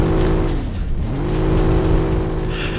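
Loud, fast car engine revving steadily with harmonic tones that dip and climb again, in a racing video game, with no talk over it.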